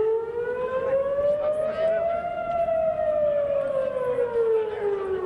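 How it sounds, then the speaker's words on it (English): A civil defense air raid siren wails steadily across Israel during a Home Front Command drill against rocket attacks, one loud, continuous tone slowly rising and then falling, heard alone. "As air raid sirens wailed across Israel"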